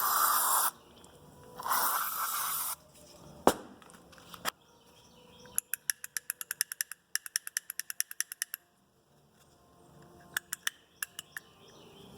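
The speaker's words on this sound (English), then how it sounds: "We just spray it all down in there." Two long hissing bursts of electrical contact cleaner spray into a 1985 Mercedes 300CD window switch, then a short one, followed by a rapid series of sharp clicking taps with quiet gaps between.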